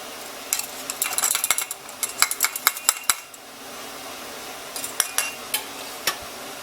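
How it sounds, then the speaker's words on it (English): A slotted spoon scoops zucchini relish into hot canning jars fresh from a water-bath canner, giving irregular bursts of close metallic clinks and scrapes with a quiet pause midway, no talking. "we're going to use our slotted spoon to put in the zucchini mixture first"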